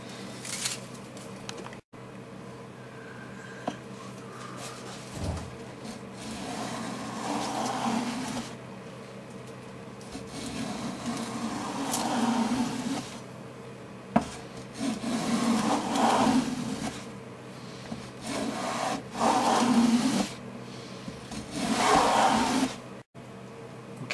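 Hand tools rub and shave along a wooden guitar back brace while it is profiled and rounded, giving repeated scraping strokes in uneven bursts, close and moderately quiet.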